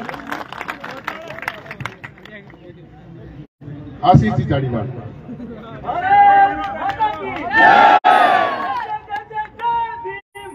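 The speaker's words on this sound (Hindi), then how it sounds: "जोरदार तालियों की गड़गड़ाहट के साथ सम्मान करें" A crowd at a welcome reception in Bikaner applauds and cheers to honour a guest, a swelling burst of clapping and chatter mixed with someone speaking over a microphone.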